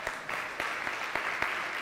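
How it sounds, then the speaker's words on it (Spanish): A church congregation applauds its young people during a service, a steady round of clapping with sharp claps standing out near the start and end, continuous and fairly close for just under two seconds. "aplauso a nuestros jóvenes."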